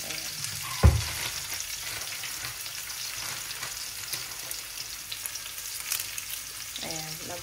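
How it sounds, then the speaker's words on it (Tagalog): Garlic and onion sauté in hot oil for adobong pata, a continuous close sizzle with scraping stirs and a loud clank of utensil against pan near the start. "Ay, magigisa na. Bawang, sibuyas."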